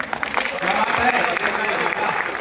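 Listeners at a Hindi kavi sammelan comedy poetry gathering clap for the poet in a brief, fairly loud burst of crowd applause with a faint murmur of voices mixed in.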